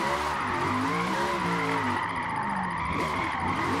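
Car tires squeal continuously while drifting in Forza Motorsport, a loud sustained screech layered over a wavering, revving engine drone, with no break across the whole stretch.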